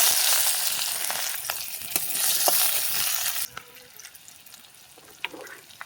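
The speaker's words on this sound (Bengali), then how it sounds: "তেল গরম হয়ে গেছে, পেঁয়াজ দিয়ে দেবো।" Sliced onions frying in hot oil in a pan: a bright, dense hiss for about three and a half seconds that abruptly drops to a quieter crackle with scattered pops, close by with no speech.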